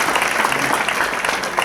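An audience claps at a Buganda ceremony addressed by the Katikiro, Charles Peter Mayiga. The applause is dense and continuous over a short span, with faint crowd murmur mixed in.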